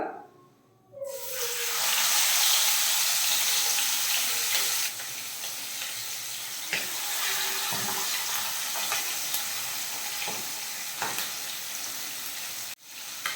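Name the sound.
chicken leg pieces frying in hot oil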